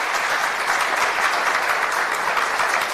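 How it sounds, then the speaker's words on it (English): Audience applause for panelists at an economic update event, a dense continuous wash of clapping from a full room, loud and even for the whole stretch. "can I ask for a big round of applause for our panelists, please?"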